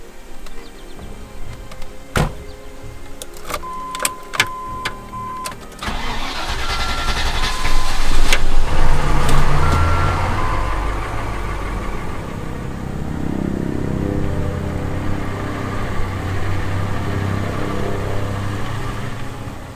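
A Range Rover Classic SUV starts up after some clicks and clunks, then runs with a loud engine that swells as it pulls away and settles into a steady mid-pitched drone.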